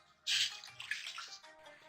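Water is poured into a cooking pot while making peach squash, a short, close splashing pour lasting about a second and a half in a quiet kitchen.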